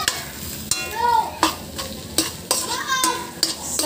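Sardine sisig with mayonnaise being stirred in a sizzling pan, with repeated scraping strokes of a spoon against the pan over a steady frying hiss, close and fairly loud, no voices.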